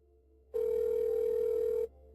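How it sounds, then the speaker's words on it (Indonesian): An unanswered telephone gives a single steady electronic ring tone, clear and even, lasting just over a second before cutting off. "Kenapa Santi tidak mengangkat telepon"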